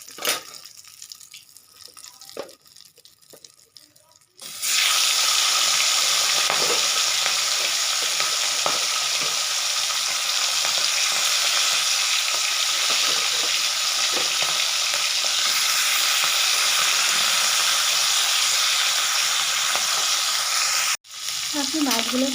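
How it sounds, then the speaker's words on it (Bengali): Fish and fish heads fry in hot oil, a loud continuous close sizzle that starts abruptly after a quieter opening and runs on steadily without speech. "বাকি মাছগুলো আমি একই রকমভাবে ভেজে নেব।"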